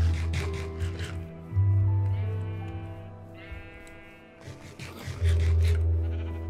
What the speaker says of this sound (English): Look at all these sheared sheep.